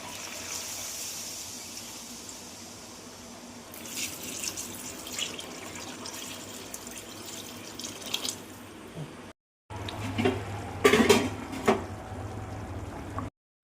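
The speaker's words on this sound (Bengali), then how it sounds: "এবার আমরা জল দিয়ে দেব, দিচ্ছি দেখুন।" Water pouring into a pan of browned chicken curry, a steady splashing gush with drips and clatter, briefly cut off near the end.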